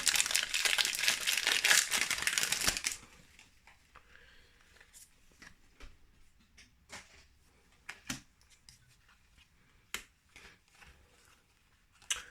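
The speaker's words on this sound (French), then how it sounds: "Si j'arrive à ouvrir ce booster." A Magic: The Gathering Crimson Vow set booster pack wrapper being torn open, loud crinkling plastic for about three seconds, then quiet with scattered light clicks and taps of cards being handled.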